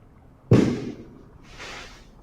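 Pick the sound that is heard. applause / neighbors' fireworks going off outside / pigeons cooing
neighbors' fireworks going off outside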